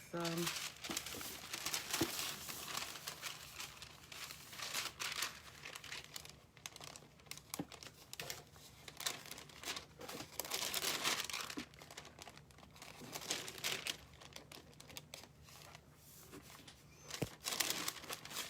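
Rice paper crinkles and rustles in close, loud bursts during decoupage on a chalk box, with crackly handling noise and brief tearing-like sounds throughout.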